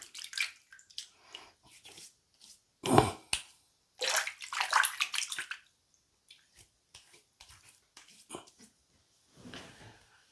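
Water splashes and drips as sandalwood shaving soap lather is rinsed off. The sounds come in irregular bursts, close and fairly quiet, with short pauses between them.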